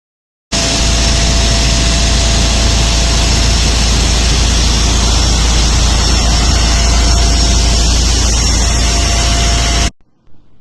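Steady, loud, continuous rumble of a ship's engine and turning propeller, a dense unbroken roar with a constant tonal hum that holds for about nine seconds before cutting off.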